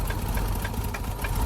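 Renix 2.5L engine idling with a low, steady rumble and faint rhythmic ticking, close and moderately loud, continuous throughout without talk.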